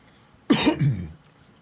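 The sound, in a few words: man coughing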